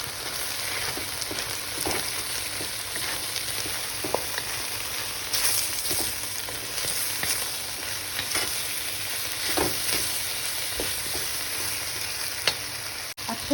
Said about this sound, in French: je vais rajouter maintenant la sauce soja sur le feu